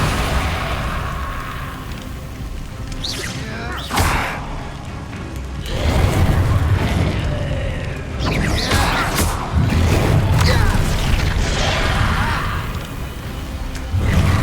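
Confringo spell blasts in Hogwarts Legacy, loud booming explosions and crashing bursts layered with whooshes, repeating across dense, continuous combat noise.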